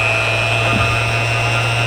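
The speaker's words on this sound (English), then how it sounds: "I turned the sander on and started working." A steady electric whine with a constant buzzing hum runs continuously, loud and close, like a power sander grinding away, sanding down an FJ Cruiser.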